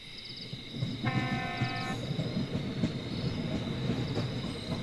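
A train arrives at a night station, a low continuous rumble of wheels and carriages with a brief tonal horn blast near the start, steady and fairly close.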